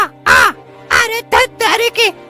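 A cartoon crow caws in a moral-story animation, giving several loud, separate harsh calls in quick succession, each short burst ringing clearly against quiet gaps, with no talking over them.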